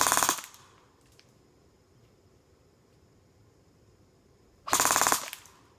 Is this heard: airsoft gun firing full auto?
yes